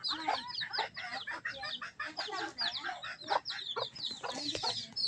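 Mestizo bantam chickens clucking and calling continuously nearby, a busy overlapping chatter of short fowl sounds with no talk.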